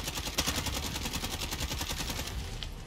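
Galil rifle fire in the video game Modern Warfare plays as a dense, continuous rapid burst of gunfire with a steady rattling rhythm throughout, mixed with busy game background sound.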